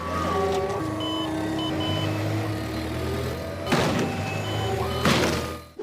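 Forklift truck in an animated cartoon scene, reversing beeps sounding as steady tonal pulses over vehicle noise, broken by two loud clanking impacts later on, fairly close with no talk.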